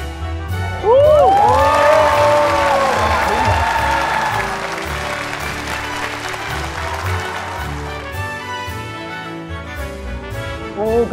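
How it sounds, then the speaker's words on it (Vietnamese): Studio audience at a Vietnamese reality dating show breaks into loud, sustained applause and cheering for a couple, with shouts and whoops over the clapping, tapering off slightly toward the end. "Một tràng pháo tay dành cho cặp đôi của chúng ta."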